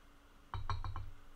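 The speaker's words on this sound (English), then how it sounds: "I can't do a cheers when there's nothing in the glass." An empty drinking glass clinking in a quick series of four or five light taps over a low background hum, close by, with no talk.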